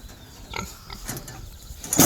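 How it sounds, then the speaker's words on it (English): Pigs grunt on a family farm at breakfast time, a few soft close oinks and snuffles scattered over low background noise. "I think these pigs want some breakfast."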